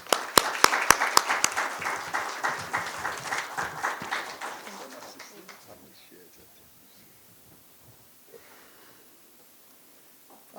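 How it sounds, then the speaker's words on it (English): Conference audience applauding for an institute director at a Pan-African thought event: dense clapping with a few sharp claps up front, then fading away by about six seconds into quiet room tone. "may we please give our very own Professor Spamandla Zondi, who's the director for the Institute of Pan-African Thought and Conversation, a big round of applause"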